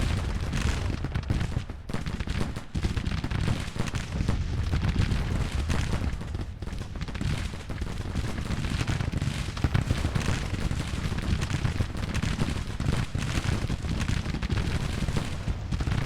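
Dense battle din in the Grand Tactician video game, with continuous rolling musket fire, crackling volleys and heavy artillery booms blending into a loud unbroken roar and no voices.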